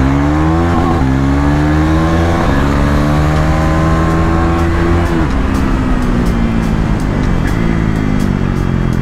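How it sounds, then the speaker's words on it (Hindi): A KTM Duke 390 motorcycle engine revs hard during a street ride, a loud, close, continuous roar whose pitch climbs, drops and climbs again as the throttle is worked. "क्या ही मज़ा आ रहा है इस बाइक को भगाने में यार"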